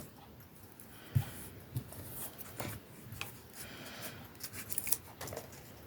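Scissors snip away excess craft material during a handmade shaker project, the cuts coming as soft, close, intermittent crisp snips over faint rubbing and handling noise in a quiet room.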